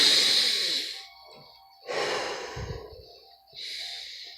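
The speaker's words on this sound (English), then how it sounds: "Breathe in." A person takes deep audible breaths, each a long airy inhale or exhale rising and fading, three breaths in all with quiet gaps between, close to the mic and without speech.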